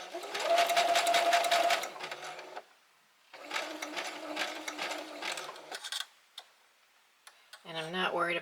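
A sewing machine runs back stitches through a denim rope bowl in two steady, rapid whirring runs of a few seconds each. A few clicks follow, then a voice speaks near the end.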